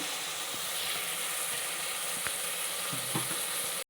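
Tomatoes frying in a pan until soft for a chicken sherva curry, a constant close hiss of sizzling oil with a few faint scraping stirs, no voices.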